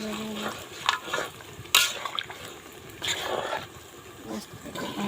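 Chicken curry is stirred in a pan on the stove, with scraping spoon strokes and soft sizzling in short bursts, close by, and a person talks over it at moments.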